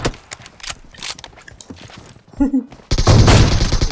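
Gunfire in PUBG Mobile during a raid on Pochinki, scattered sharp shots followed by a loud sustained burst of automatic fire, close and harsh, with players shouting and talking between the shots.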